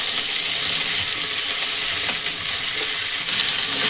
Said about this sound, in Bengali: এবার ভেজে রাখা সব সবজিগুলোকে এখানে আমি দিলাম।